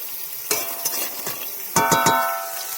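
Lentil dumplings (bori) fry in a pan with a steady, close sizzle, broken by several sharp scraping stirs of a spatula against the pan.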